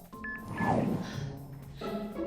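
Telephone dialing tones for a three-way phone call in the film Wendy Wu: Homecoming Warrior: a few short keypad beeps, then sustained tonal sounds. Fairly quiet, with some faint background noise and no clear speech.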